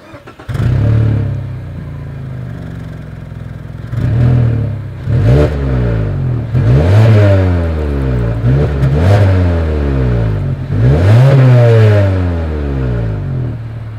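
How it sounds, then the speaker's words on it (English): A 2020 Mazda 3 engine with a deep dual exhaust idles, then revs repeatedly in sharp bursts, each climbing and falling back, loud and close. "As always, here is that exhaust clip."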